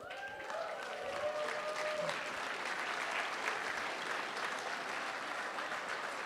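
Audience applause for standing professors at a university business college anniversary gala, sustained dense clapping from a large crowd throughout, with a brief voice near the start.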